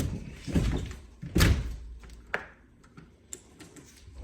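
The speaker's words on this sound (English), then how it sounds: "Oops, forgot to shut the front door." A house front door pushed shut, a loud thud followed by lighter knocks and clicks of the latch, close by in a quiet interior.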